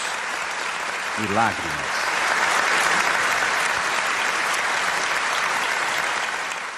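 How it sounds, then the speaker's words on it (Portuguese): Long, steady audience applause fills the room at a church event, a dense wash of clapping that holds throughout, with a brief spoken phrase near the start. "O agradecimento vem em forma de aplausos demorados"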